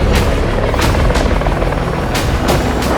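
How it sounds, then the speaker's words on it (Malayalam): Helicopters fly over the Dakar Rally, their rotor blades beating in a loud, rhythmic whump that pulses roughly every third of a second over a constant engine roar. "Look at this, full ഹെലികോപ്റ്ററാണ്, choppers. ഈ ദക്കാറിൽ ഏകദേശം 12 ഹെലികോപ്റ്റർ ഉണ്ട്."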